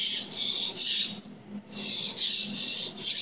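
Large kitchen knife drawn slowly along a sharpening stone, a gritty sandpaper-like rasp in repeated strokes with short pauses between them, close and fairly loud.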